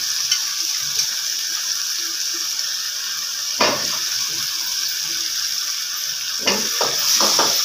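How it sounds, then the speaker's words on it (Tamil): Steady sizzling of potatoes frying in a chicken curry in a pan, with a few brief scraping stirs near the middle and end. "இதோட சேர்ந்து நல்லா வதங்கட்டும்"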